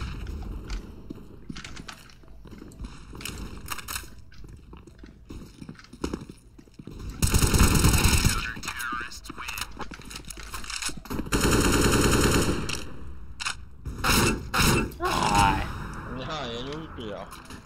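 Video game gunfire in bursts of rapid automatic shots, loud and close, alternating with quieter stretches while players talk in Russian.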